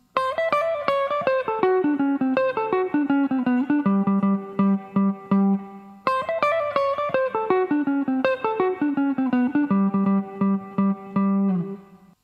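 A melodic jazz 2-5-1 phrase from a solo, a quick descending run of bright sustained notes settling on a repeated low note, played twice in a row with no talking.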